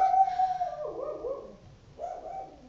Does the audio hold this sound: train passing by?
no